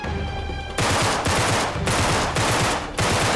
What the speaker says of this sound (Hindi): गन से मार रहा हूं